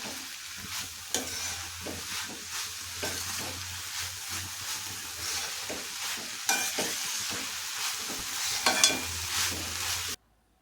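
A spoon stirs and scrapes a bread toast filling with finely chopped coriander in a hot pan, giving irregular close clacks over a soft steady sizzle before cutting off abruptly.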